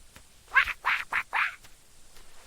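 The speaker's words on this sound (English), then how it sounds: "It's a duck." A duck quacks four times in a quick series of nasal calls, close and clear, in an animal-sounds learning piece for children.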